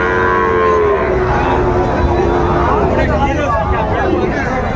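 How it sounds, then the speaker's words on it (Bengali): Sahiwal cattle at a busy Chattogram cattle market low with loud, drawn-out moos that overlap one another, with crowd babble and voices talking throughout. "দেখান তো গরুগুলো একটু, দেখান তো ভাই।"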